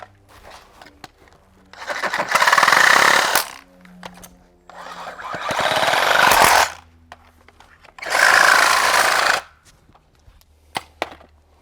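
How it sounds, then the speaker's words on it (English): A saw trims the flange off an aluminum-style automatic pool cover track in three separate cutting bursts, each roughly one to two seconds long, loud and close with brief clicks and handling noise in between. "while you have your saw handy, just go ahead and trim that off"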